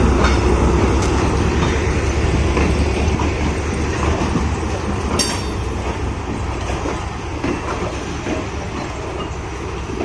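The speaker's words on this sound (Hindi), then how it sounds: "ये रेलवे का ZC यूनिट टर्मिनेटर सीरीज है।" A ZC unit Terminator series locomotive on Pakistan Railways passes close by near Faisalabad. It gives a loud continuous rumble with clickety-clack wheel beats and a brief squeal partway through.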